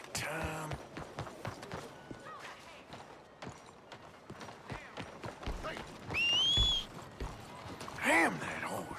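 Rhythmic clip-clop of horse hooves trots throughout in Red Dead Redemption 2, with faint talking, a couple of creaks and a brief whinny-like call near the end.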